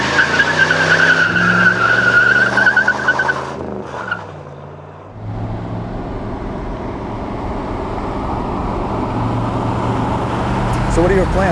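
A 1967 Chevrolet Impala SS accelerates hard, its engine note climbing and then dropping into a rougher rumble with a rush of road noise, loud and close, while people talk over it.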